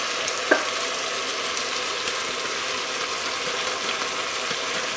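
A pan of onions and carrots sizzles steadily as a sauce goes in, with a brief sharp clatter near the start, then a dense, even frying hiss throughout.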